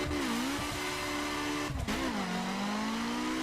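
A BMW M4 engine revs in The Crew racing game, holding a loud, steady high drone that dips briefly at a gear shift and then climbs again, with a hint of tire squeal.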